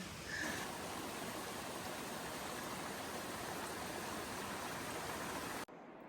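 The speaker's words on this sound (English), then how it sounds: "There's water running right down there." Steady rushing of a mountain stream in the North Cascades, a dense broadband wash of running water that fills the whole clip before cutting off abruptly near the end.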